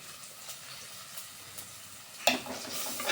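Stirring fish curry in a pan after turmeric powder goes in, a soft continuous scraping and sizzle running low and steady, then a sharper, louder burst of stirring near the end.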